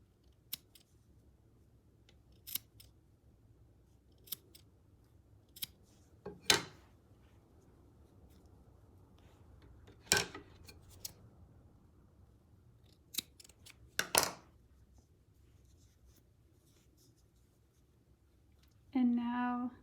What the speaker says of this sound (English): So I'm just starting by cutting these loops at the bottom of the weaving.